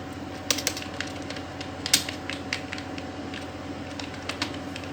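Fingers tap on a computer keyboard in quick irregular bursts of light, close clicks over a faint steady hum, with no talking.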